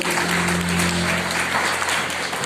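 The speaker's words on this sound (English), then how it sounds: "Clap unto Jesus, church." A church congregation claps together during a Sunday service, a dense, loud, continuous wash of applause over a low steady hum that eases slightly near the end.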